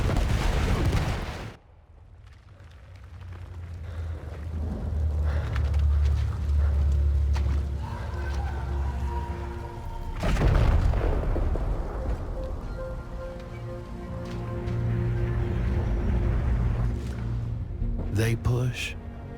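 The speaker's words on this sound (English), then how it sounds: "A bombardment from the above." World War I artillery bombardment in the Battlefield 1 intro, with sharp blasts at the start, near the midpoint and at the end over a deep sustained rumble, under music and voices.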